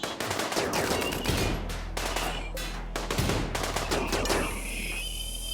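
Rapid automatic turret gunfire in the video game RimWorld, loud bursts of fast shots with brief gaps between them and a low rumble underneath, with no voices.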